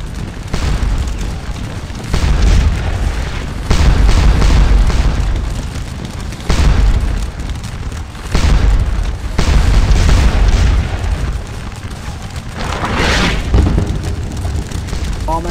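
Heavy cannon fire booms across a Napoleonic battlefield in the Scourge of War: Waterloo game, as a brigade battalion takes a barrage: about six loud, deep blasts at irregular intervals over a continuous rumble of battle.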